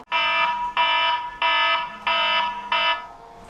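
Electronic alarm on a French TV game show, sounding in five loud, evenly spaced buzzing bursts with brief gaps between them and no talk.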